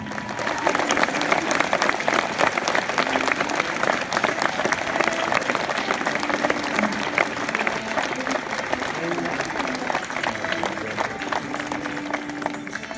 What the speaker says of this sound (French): Allez, on peut l'applaudir.